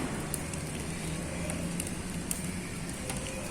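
A homemade rocket stove burns with a steady, even roar from its concentrated flame, a constant close hiss with faint scattered crackles and no voices.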